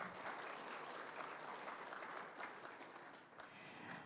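Applause from an audience of railway workers at a New Year greeting and safety pledge ceremony, a dense, steady wash of many hands clapping at once, continuing for several seconds and easing slightly near the end.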